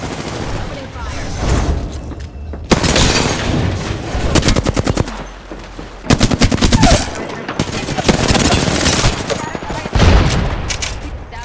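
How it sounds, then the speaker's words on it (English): Rapid automatic gunfire from an Apex Legends battle royale match, with dense bursts of shots and heavy fusillades recurring throughout, loud and close, interspersed with brief pauses and some game voice lines. "Opening fire."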